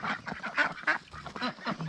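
A mixed backyard flock of ducks and geese calls near a chicken area, several close, loud quacks and honks in quick irregular bursts.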